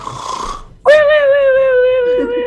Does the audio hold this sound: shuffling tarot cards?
no